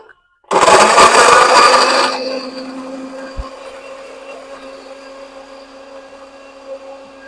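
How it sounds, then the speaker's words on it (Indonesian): A blender roars loudly for a couple of seconds blending onions, spring onion stalks and spices, then drops to a lower steady whir that keeps running. "Kita blender semuanya sama batang daun bawang juga kita blender"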